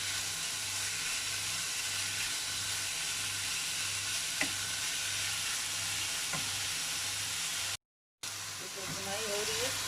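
Chicken for a Kolkata-style kathi roll roasting in a pan, with a steady, loud sizzle and the scrape of stirring all the way through and a brief gap near the end. A voice is heard partway.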